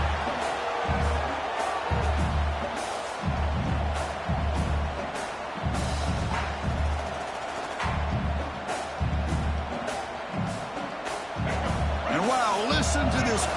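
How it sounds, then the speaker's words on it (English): Loud, steady stadium crowd roar fills a large open space, with rhythmic thumps and swells of cheering underneath. "Listen to this crowd noise."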